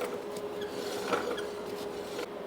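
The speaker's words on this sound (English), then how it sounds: "that noise you're hearing is that crazy brake assembly right there" Floating disc brake assembly on a 1997 Polaris Sportsman rubbing as the wheel turns, a steady close scraping rasp with faint rhythmic grinding and a thin metallic whine.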